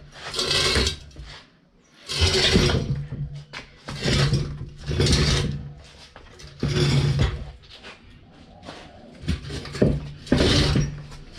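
Metal clanks, ratcheting and scraping come in bursts as a jacked-up car's differential cradle is wrenched out, with several loud effortful stretches separated by short pauses, close up.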